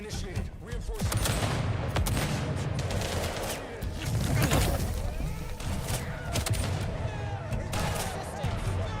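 Rapid sniper and automatic gunfire crackles almost continuously in Vampire: The Masquerade - Bloodlines 2, dense overlapping shots with booming impacts, loud and close, with game voices calling out beneath the fire.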